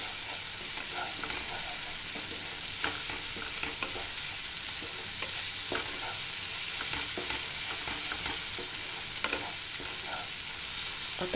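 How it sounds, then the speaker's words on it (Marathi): Gram flour (besan) sizzles and fries steadily in hot oil while being stirred for a garlic spinach dish, a continuous crackling hiss with occasional scraping stir sounds. "छान परतून घ्यायचं तेलामध्ये बेसन"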